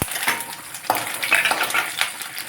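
Dried red chillies, chana dal, mustard seeds and garlic fry in hot oil, crackling and popping steadily close by as a utensil stirs them against the pan.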